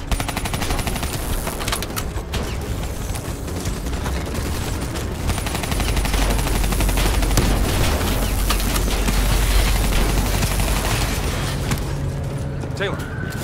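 Dense, continuous automatic gunfire and shots from Call of Duty: Black Ops 3 on PC roar loud and close for the whole stretch, with battle voices mixed in beneath the shooting.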